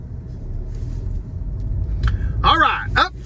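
Ford Escape three-cylinder SUV on the move: a steady low engine and road rumble continues throughout, with someone talking over it near the end.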